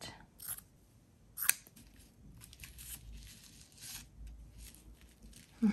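Scissors snipping through cheesecloth that will not tear, a few crisp cuts and rustles of the loose fabric up close, separated by quiet stretches.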